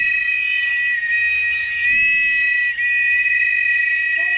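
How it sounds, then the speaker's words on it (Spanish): A shrill whistle blown as a signal, a sustained piercing tone lasting several seconds with slight wavers, loud and close, outdoors. "Ese pito significa aquí estoy."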